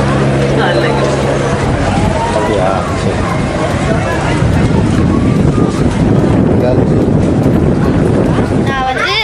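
A tourist boat ride on a lake in Ooty: a loud, steady rumble of motor and wind buffeting, with a background babble of voices throughout.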